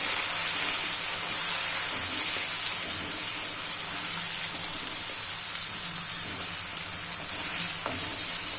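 Tomato puree sizzles steadily in a hot pan while it is mixed in for a Gujarati sookhi moong dal shaak, a constant close frying hiss with soft stirring scrapes underneath.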